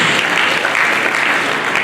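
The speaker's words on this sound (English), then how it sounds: "Can you clap for him also?" Dense, loud audience applause in a hall at an engineering faculty's international conference, a continuous wash of many hands clapping with no gaps.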